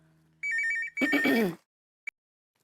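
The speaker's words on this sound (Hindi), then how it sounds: "आया फोन आया" A single electronic telephone ring trills briefly, followed by a short burst of other sound and then a faint click before silence.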